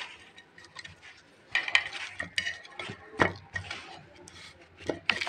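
Hands mix eggplant slices with dried chili, turmeric and salt in a bowl, giving close, uneven squishing and clattering bursts with soft scraping between them and no voices.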